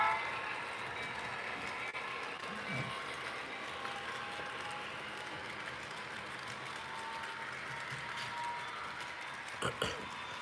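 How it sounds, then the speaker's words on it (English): An HO scale model train rolling along its track, a steady close rumble and clatter that holds throughout, with a couple of sharper knocks near the end. "And there goes that train."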